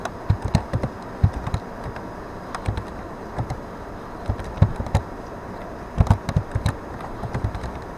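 Someone types on a computer keyboard in short, uneven bursts of close, crisp key clicks separated by pauses, with no talk.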